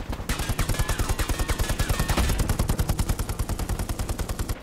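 Machine gun fire in the World War II shooter Hell Let Loose, a loud, close, unbroken automatic burst of rapid evenly spaced shots lasting several seconds, with clattering echo behind it.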